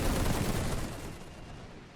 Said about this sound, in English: Machine gun is firing.